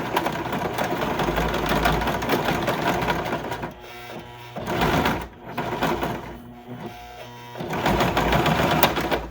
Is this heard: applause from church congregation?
no